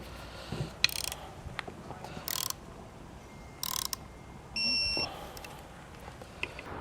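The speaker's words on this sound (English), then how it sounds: "we'll torque these two down as well." A ratchet torquing bolts on an Air Lift LoadLifter 7500 XL air spring assembly for a 2021 Chevrolet, several short bursts of fast clicking with small metallic knocks between, close and fairly quiet.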